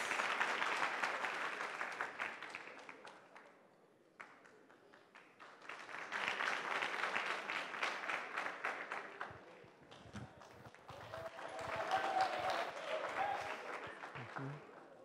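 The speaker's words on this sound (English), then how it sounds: "Let's clap for them." A crowd at an award ceremony in Eldoret, Kenya, claps in several waves of applause, swelling and fading, with a brief lull partway through and a faint voice near the end.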